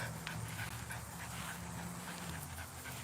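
Dogs pant quickly and steadily at close range, with a soft whimper here and there, over a continuous low hum and outdoor background noise.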